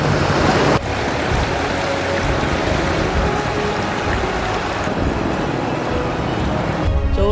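Motorbike fording a deep river on a Mindoro road between Calapan and Abra de Ilog, with continuous loud rushing, splashing water throughout and a brief drop in the churning noise near the start.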